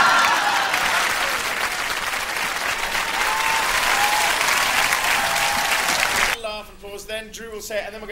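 Studio audience applause, a dense, loud, sustained clapping from a large crowd that fills the room for about six seconds, then drops away as voices begin talking.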